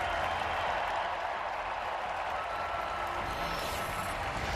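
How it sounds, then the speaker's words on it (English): An arena crowd at an NHL season opener between the Pittsburgh Penguins and New York Rangers cheers and applauds in tribute to Johnny and Matthew Gaudreau, a steady, dense roar of clapping and voices that holds evenly throughout. "we ask that you please stand and cheer for a 13-second moment of celebration to honor Johnny and Matthew Gaudreau"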